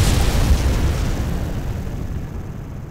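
An explosion from a Tech Guns mod weapon in Minecraft, a loud broadband boom at the start that rumbles on and slowly fades over a few seconds, with no talk.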